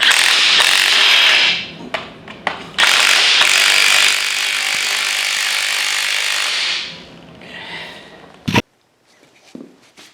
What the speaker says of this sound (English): you just use an impact on the nut there, and it just compresses the shock